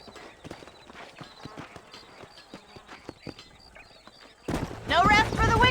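Horses trotting in the video game Red Dead Redemption, a quick steady clip-clop of hooves for several seconds before a louder voice takes over at the end.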